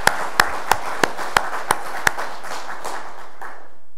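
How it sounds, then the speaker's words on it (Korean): Rhythmic hand claps ring out in a church, eight sharp, evenly spaced claps, each trailing a reverberant room tail, before the hall falls quiet. "우리 한번 박수로 격려했으면 좋겠습니다."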